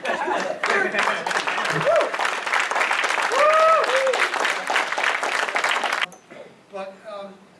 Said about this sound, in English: why don't you give John a round of applause